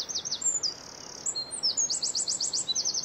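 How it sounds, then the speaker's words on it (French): A bird sings alone in Belgian spring, close and clear, with rapid high chirps and trilled phrases repeating in quick bursts over a faint, quiet background. "Les signes les plus beaux du printemps seront toujours les chants d'oiseaux."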